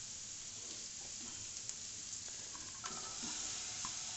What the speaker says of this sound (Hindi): इसको हम अच्छे से फ्राई करेंगे। गोल्डन ब्राउन करेंगे हम प्याजों को